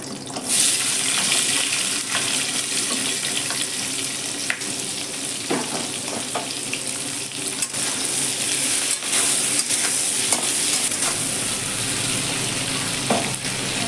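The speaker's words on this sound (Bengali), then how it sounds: "তখন পেঁয়াজগুলো হালকা ভাজবো।" Onions fry lightly in oil in a home kitchen while chilli prawns are being prepared. A steady, close sizzle runs throughout, broken by scattered clinks and stirring sounds, with no talking.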